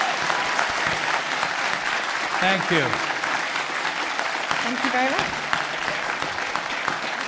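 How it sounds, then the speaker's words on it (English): Convention panel audience applauding a guest, a sustained wash of many hands clapping from a large crowd, while someone speaks briefly over it. "Everyone give a massive round of applause to our guest"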